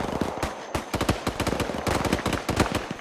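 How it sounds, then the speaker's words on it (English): Close enemy gunfire in ArmA 3, a tactical military shooter, with rapid irregular bursts of sharp automatic shots rattling loudly and continuously with no talk over it. "That sounds close. That's enemy fire."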